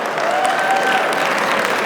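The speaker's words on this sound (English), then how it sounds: "Let's give her a round of applause." Loud, sustained applause fills the hall at an anniversary gala as a keynote speaker is welcomed, with a thick wash of clapping at an even level throughout.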